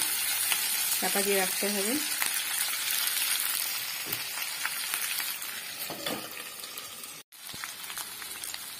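Tomatoes fry in a pan with a steady, close sizzle running throughout, while a voice speaks briefly over it near the start.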